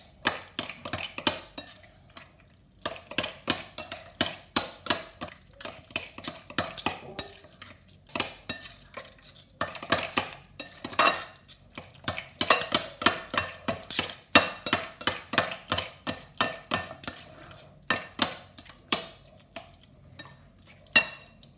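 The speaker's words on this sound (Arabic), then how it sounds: "معناها نجيبو زوز سكاكن" Two knives chop cooked vegetables for Tunisian tastira served with whiting, giving a long run of sharp, close metallic clicks and taps in an uneven but steady rhythm with brief pauses.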